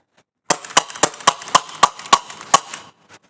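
A Rekt CO2-powered Nerf pistol fires a rapid string of about nine sharp, snappy pops in close succession, loud and near, followed by a faint final click, with no talking.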